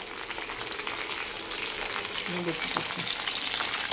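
Ivy gourd sautés in oil with salt for a kovakkai gravy, a soft continuous sizzle with faint scraping stir sounds, no talking.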